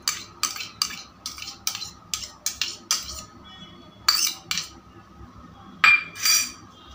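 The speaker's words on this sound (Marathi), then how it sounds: "दही छान असं फेटून घ्यायचं" A whisk or spoon clinks and scrapes against a bowl while a cup of yogurt is beaten, giving uneven bursts of metallic tapping, close and clear, with no talking.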